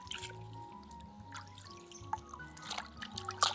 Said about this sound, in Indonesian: Makanya kita langsung cuci di sungai ini.